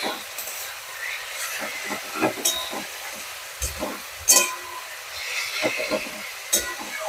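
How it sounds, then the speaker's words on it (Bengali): Sliced onions with salt fry in a pan for mutton kosha, giving a steady close sizzle broken by several sharp crackles and stirring scrapes, moderately loud and without talk. "পেঁয়াজটা নরমও হবে এবং পেঁয়াজটা তাড়াতাড়ি ভাজা হয়ে যাবে।"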